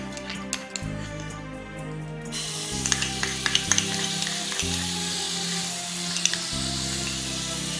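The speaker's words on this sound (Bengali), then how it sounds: "তেল গরম হয়ে গেল এর মধ্যে দিয়ে দিচ্ছি রেডিমেড তেঁতুলের পেস্ট" Readymade tamarind paste hits hot mustard oil and sets off a loud, crackling sizzle up close. Spatters and clinks of utensils come and go over the steady frying, and no one speaks.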